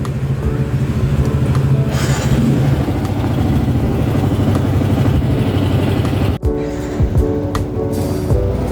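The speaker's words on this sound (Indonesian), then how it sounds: "So, kita panasin motor dulu sebelum kita berangkat." Motorcycle engine idling to warm up before a ride, a steady low rumble running throughout with a brief dip and slight change in tone near the end, close and fairly loud.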